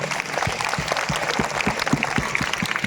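A gathering claps for a priest, Father Bali, on his ordination anniversary: a steady round of group applause with evenly spaced, rhythmic claps lasting about three seconds, moderately loud and close, with no talking.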